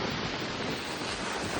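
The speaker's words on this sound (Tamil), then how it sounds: "சரியான காற்று." A strong wind roars as broadband rushing noise buffeting an outdoor phone microphone, loud and steady with no speech.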